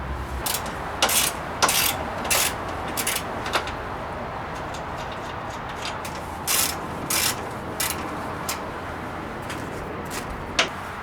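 Socket ratchet working on 10 mm bolts in the engine bay of a Scion FRS, bursts of rapid clicking pawl ratcheting separated by short pauses, close and clear with no talking.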